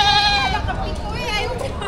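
Goats bleat at a livestock market for cattle, goats and carabao, a couple of wavering calls over steady crowd chatter and people talking close by.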